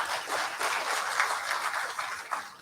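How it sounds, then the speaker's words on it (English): A conference audience gives a round of applause, moderately distant and somewhat faint, a steady patter of many hands throughout. "Round of applause."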